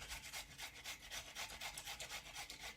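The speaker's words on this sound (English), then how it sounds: "I actually take a cheese grater and I grate the onion" An onion is rubbed against a metal cheese grater in quick, even rasping strokes, roughly five per second, close up and fairly quiet with no talking.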